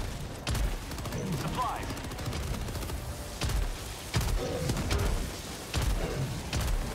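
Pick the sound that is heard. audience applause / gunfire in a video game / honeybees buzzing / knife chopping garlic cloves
gunfire in a video game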